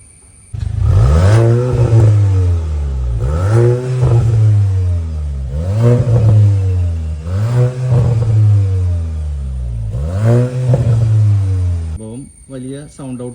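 A Volkswagen Golf GTI with its resonator deleted and a Valvetronic exhaust can is revved hard about five times in a row, each loud rising blip falling back to idle, close up.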